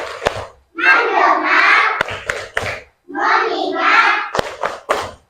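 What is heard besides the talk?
rhythmic clapping game, tepuk fokus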